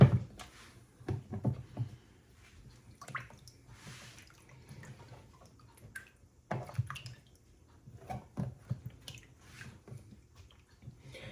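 Water drips and trickles out of handmade recycled paper pulp in quiet, irregular bursts with soft splashes and squishy wet sounds, near and faint.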